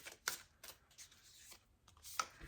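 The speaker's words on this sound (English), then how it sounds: "I'm going to choose one card from each deck" A tarot card is drawn from a deck, with a few soft, quick papery riffles and slides, faint and close, and no talk.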